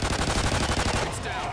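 Rapid automatic gunfire in the Call of Duty Extinction video game, a dense burst of loud, closely spaced shots that stops just before the end.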